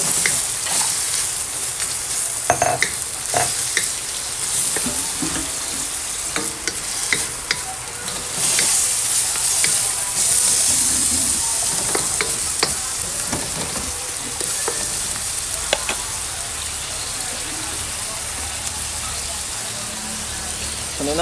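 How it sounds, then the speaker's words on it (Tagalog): Shrimp stir-frying in a pan, a loud sustained sizzle and crackle with scraping strokes of stirring scattered through it, continuous and close, with no talk. "Yan, isangag natin yung ating hipon."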